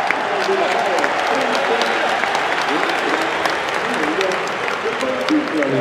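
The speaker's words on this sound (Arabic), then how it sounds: "الجمهور تقريبا احتفل بخروج كوتيني" A stadium crowd at a Barcelona match applauds as Coutinho is substituted, a steady dense wash of clapping from a large audience with voices mixed in, sustained throughout at even loudness.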